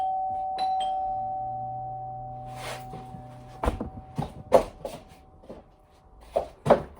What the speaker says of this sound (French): 2 secondes, il y a quelqu'un qui tape à la porte.